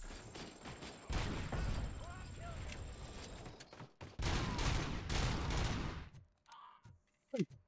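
Rapid bursts of gunfire in the video game RoboCop: Rogue City, a dense barrage of shots with thuds for about six seconds, then a sudden drop to a few scattered shots and a mechanical whine.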